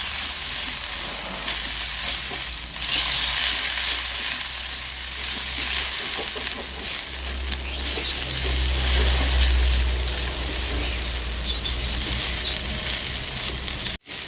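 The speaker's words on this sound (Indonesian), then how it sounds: "Selanjutnya kita tumis bumbu halusnya di minyak panas." Ground spice paste sautéing in hot oil for a smoked stingray and bamboo shoot stew, a steady broadband sizzle and crackle with occasional stirring scrapes, close and continuous with no talking.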